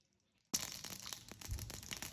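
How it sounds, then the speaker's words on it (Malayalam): After a short silence, a quarter teaspoon of mustard seeds hits hot oil and bursts into sudden loud, close spluttering and crackling that continues densely to the end. "കടുക് ഇടുന്നു"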